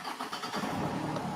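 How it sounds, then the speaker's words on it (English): Nissan D40 Navara engine cranking and catching, a short close mechanical churn that settles into a steady running rumble with no talk. "start the car"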